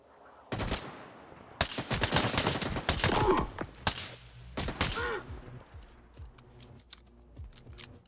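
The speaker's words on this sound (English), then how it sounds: "And there are the other gunshots of the other factions fighting." Scattered gunfire from warring factions in the STALKER 2 video game, with bursts and single shots crackling at varying distances, some sharp and close, others fainter, across several seconds without talk.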